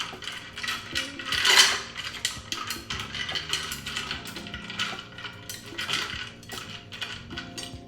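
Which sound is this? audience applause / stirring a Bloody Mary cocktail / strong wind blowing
stirring a Bloody Mary cocktail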